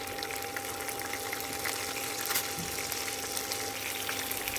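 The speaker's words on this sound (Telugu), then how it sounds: "ఆ తర్వాత కరివేపాకు, పచ్చిమిర్చి వేసి కాసేపు వేగనించండి." Curry leaves and green chilies frying in hot oil in a pan, a steady close sizzle with a faint constant tone underneath and no speech.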